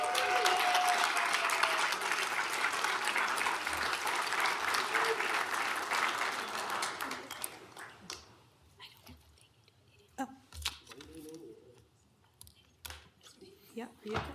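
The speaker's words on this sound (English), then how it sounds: "let's give a big round of applause for Mary Lopez" At a county board of supervisors meeting, a room applauds a long-serving retiree, broad steady clapping for about seven seconds that then thins to scattered claps among quiet murmurs and nearby talk.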